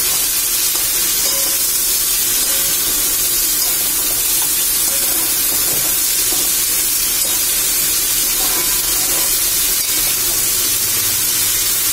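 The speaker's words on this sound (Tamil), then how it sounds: "ஸோ அந்த வழவழப்பு கொஞ்சம் போறதுக்காக நம்ம வதக்குறோம்" Sliced okra sautéing in a hot pan for a vendakkai kuzhambu, giving a steady, close sizzle with soft stirring and hissing that continues evenly throughout, with no talking.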